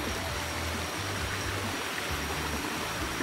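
Flowing water at a waterfall near Tanjung Selor, heard as a steady, fairly quiet rush of stream noise that stays even for the whole stretch, with no voices over it.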